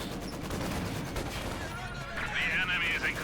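Gunfire in Company of Heroes 2, a World War II strategy game, with dense crackling volleys from Sturmgewehr rifles and a Maxim machine gun, continuous and busy under someone talking throughout.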